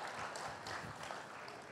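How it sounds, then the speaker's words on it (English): A TED Talks Nayi Soch audience claps together, a faint, dense, even patter of applause that sounds distant and carries no voices over it. "just made them clap"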